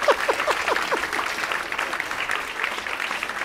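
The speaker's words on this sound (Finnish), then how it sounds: "Annetaan Santulle kunnon aplodit." Audience at a stand-up comedy show giving a brief round of applause, lively clapping with a few whoops or shouts on top, moderately loud and fading slightly.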